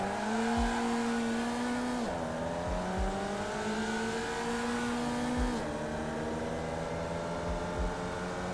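Race car engines in the iRacing sim rev at a race start, a loud, droning engine tone rising in pitch, dropping at gear shifts and climbing again, with short thumps beneath it.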